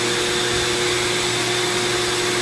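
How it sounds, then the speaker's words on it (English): A 5-inch disc sander running steadily, a constant high motor whine with strong tonal hum, close and alone for a couple of seconds. "a disc sander, a 5-inch disc sander"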